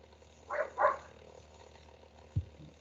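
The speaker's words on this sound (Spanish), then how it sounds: "me está ladrando el perro afuera ahí." A dog barks outside, two quick muffled barks at a distance, faint in a quiet room, followed by a soft thump.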